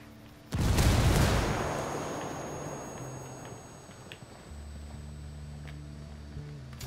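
A frag grenade goes off in the shooter game Ghost Recon Wildlands with one loud, sudden boom that rolls into a long decaying rumble. A low steady background hum follows, and a few faint clicks come through.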